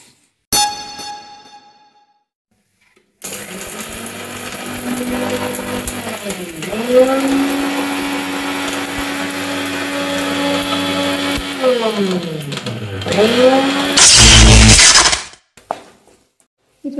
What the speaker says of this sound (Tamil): இப்போ மிக்ஸி ஜாரில் வச்சு நம்ம அரைச்சிக்கலாம்.